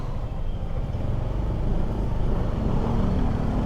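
A car on the road close to a motorcycle rider in Angeles City, its engine rumble blending into steady low traffic and wind noise, continuous and loud with no talk.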